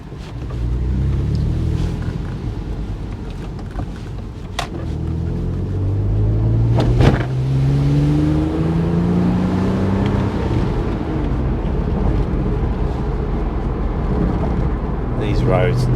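A Porsche 987 Boxster driving along English country lanes, a loud steady engine and road rumble heard from inside the cabin, with a rising engine note partway through and someone talking over it.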